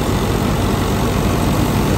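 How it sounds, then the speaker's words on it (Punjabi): An Indofarm 3065DI tractor fitted with a reaper runs in a wheat field, its engine a loud, close, steady rumble without any change in pitch throughout. "ਆਵਾਜ਼ ਦੇਖ ਲਓ ਟਰੈਕਟਰ ਦੀ"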